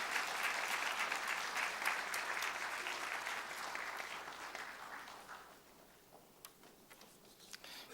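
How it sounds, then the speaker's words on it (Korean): A congregation at a Christmas church service claps for several seconds, a steady wash of applause that thins and fades out toward the end, leaving scattered light taps. "박수해 주시기 바랍니다."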